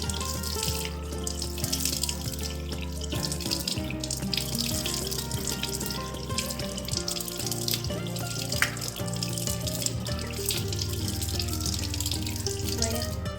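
Tap water runs steadily into a sink and splashes as someone rinses their face, a continuous close wash of water lasting throughout with no talking.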